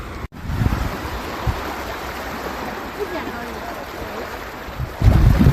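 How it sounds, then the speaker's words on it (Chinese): Ocean waves wash onto the beach at Qinhuangdao on a morning shoreline, a steady wind-blown rumble of surf with louder surges near the start and end, while people move and talk faintly nearby. "海的声音，大海的声音。"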